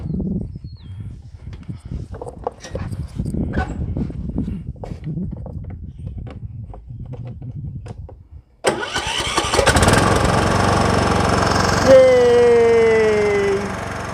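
A riding lawn tractor engine cranks, catches and starts after a quiet stretch with faint background sounds, then runs loudly and steadily close by, with a rising whine near the end.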